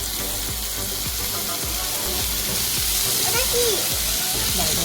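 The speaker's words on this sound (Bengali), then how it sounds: "কড়াই টমেটো দেওয়ার পর নাচানাচি হচ্ছে" Tomatoes hit hot oil in a wok and sizzle loudly and steadily, a dense close frying hiss with faint spattering, while voices talk over it.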